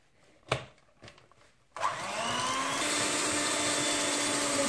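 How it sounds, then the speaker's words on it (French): An electric hand mixer beats cake batter with eggs, starting as a steady, close, high whir after a few soft knocks and running on evenly to the end. "Je vais battre bien mon mélange à l'aide de mon batteur"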